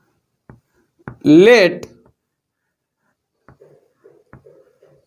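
Faint, short scratching strokes of writing on a board during a physics class on electric fields come in small bursts near the end, after a brief spoken word from a teacher.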